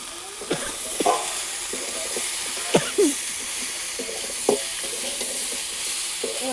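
Spices, chilli powder and tomato being sautéed in a pan with taro for a curry, a steady soft sizzle broken by several scraping stirs of a spatula, close by and with no talking.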